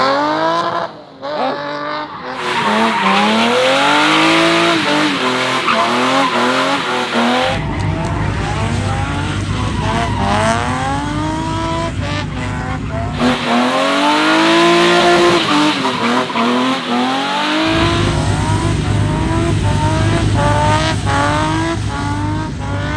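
A car at the Le Mans circuit during a car show does a burnout, engine roaring loud and close while tires squeal and skid in long rising and falling bursts, with revs surging and dropping throughout.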